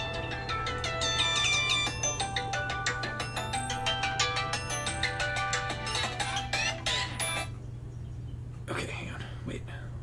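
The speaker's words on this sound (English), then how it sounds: "I'm getting a phone call" A phone ringtone plays a rapid repeating electronic melody for several seconds alongside a steady low hum, with faint whispered voices, then cuts off before a few brief noises.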